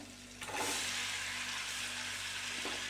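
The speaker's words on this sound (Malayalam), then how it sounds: "ചൂടുവെള്ളത്തിലിട്ടിട്ട് മാറ്റി വെച്ചിരിക്കുന്ന പനീർ ഉണ്ടല്ലോ അതിട്ടിട്ട് ഒന്ന് ഫ്രൈ ചെയ്തെടുക്കാം" Paneer soaked in hot water drops into a pan of melted butter and gives a soft, steady sizzle close by that rises after a short quiet start, with a faint stir near the end.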